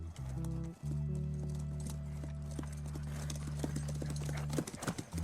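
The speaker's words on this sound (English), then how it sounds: "They ride out through a fence gate." Horses clip-clop steadily at a walk as riders pass through a fence gate in The Last of Us Part I, the hooves a clear even rhythm over a low sustained tone.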